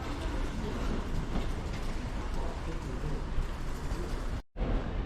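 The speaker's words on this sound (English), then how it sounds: "In comes the 10:49 to Rochdale on 5118." Loud rumble of a train pulling into Bolton station platform, a dense continuous roar with faint rattling, close by, briefly cut off near the end.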